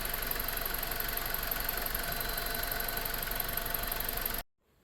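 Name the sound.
BMW E46 engine running after repair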